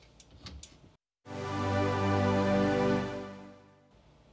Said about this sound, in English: what our pad sounds like with no cutoff and with no reverb